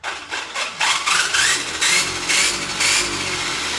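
An electric RC truck motor on a 4S battery with throttle limited to 50% whirs in short, repeated bursts, close and moderately loud, with a rising whine and scuffing noise.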